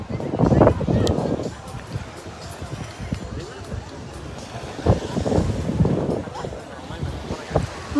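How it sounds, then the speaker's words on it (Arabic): Sea waves wash ashore at the beach while wind buffets the microphone, a steady broadband roar with louder surges; someone talks over it at times. "البحر بيجنن"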